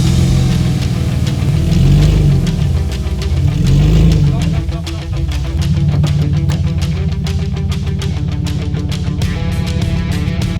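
A burnout car's engine revs hard in repeated surges, swelling and dropping around a rough, loud idle during work on an engine swap, with sharp clanks and a voice in the background.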